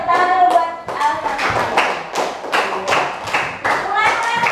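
Children in an elementary classroom clap for a classmate, a burst of uneven hand claps with thuds and taps lasting several seconds, voices mixed in near the start.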